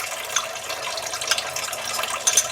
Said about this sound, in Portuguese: o amido de milho, a gente vai dissolver ele em aproximadamente umas 2 colheres, acho que um pouquinho de água